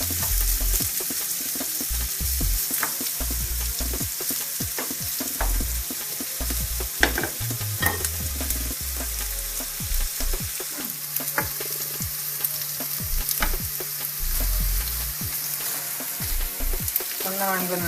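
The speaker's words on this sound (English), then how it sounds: "Always love the sound of frying onions." Onions frying in a pan for a Balkan crockpot dish, a loud continuous close sizzle with scattered crackles and occasional stirring scrapes, no voices.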